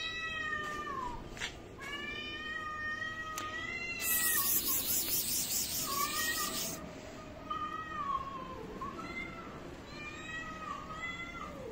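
Several cats meow and yowl in drawn-out, wavering cries, with a harsh hissing burst in the middle; no talking.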